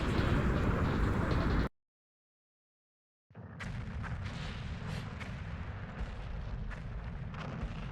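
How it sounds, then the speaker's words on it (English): Missiles launched into a reactor core in the video game Airforce Delta Storm, a dense roaring barrage that cuts to a brief silence, then resumes as a sustained rumbling wall of blasts and explosions. "Fire some missiles in there."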